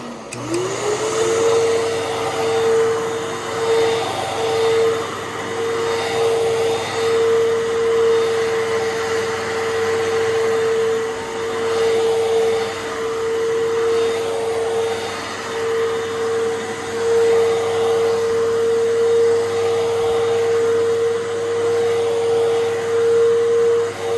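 A Bissell Fantom vacuum cleaner runs steadily and loudly for the whole stretch, a constant motor drone with a strong, unchanging whine and no pauses or voices.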